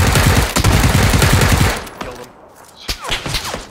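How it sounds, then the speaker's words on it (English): Automatic gunfire in PLAYERUNKNOWN'S BATTLEGROUNDS, a loud rapid burst of shots for the first couple of seconds, then a few scattered, softer single shots with quieter game ambience in between. "Oh, I'm being shot at by somebody else."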